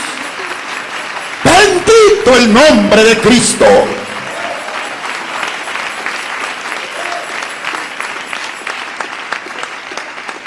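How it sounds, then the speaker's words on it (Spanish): A church congregation claps in praise of Jesus, with a dense, continuous patter of applause throughout and a loud voice calling out over it near the beginning before the clapping carries on alone. "Ese aplauso de alabanza al Señor Jesús"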